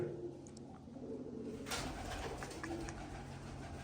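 Soft pigeon cooing repeats in the background over a low steady hum, fairly faint and unhurried.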